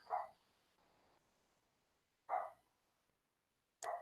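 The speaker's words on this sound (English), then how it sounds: "My dog is barking because Amazon probably dropped a package off at our front door." A pet dog barks at a package dropped at a front door indoors, giving three short, loud barks spaced about two seconds apart with quiet in between.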